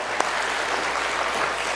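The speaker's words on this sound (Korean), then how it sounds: "다시 한번 하나님 앞에 감사와 영광의 박수 올려드리겠습니다" A church congregation applauds in praise, a dense, steady wash of many hands clapping at an even level throughout, loud and enveloping.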